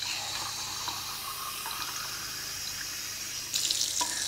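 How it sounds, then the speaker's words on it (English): Water runs steadily into a cooking pot while a rabbit dish is being prepared in a kitchen, a continuous splashing rush that grows a little louder near the end, with no voices. "And so now we're going to add our water."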